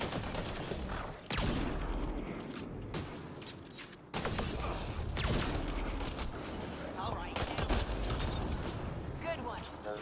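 Bursts of video game gunfire crackle over a busy mix of mechanical game sounds, with loud volleys near the start and in the middle.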